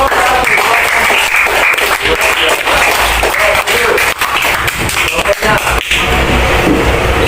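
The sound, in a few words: audience applause for a presenter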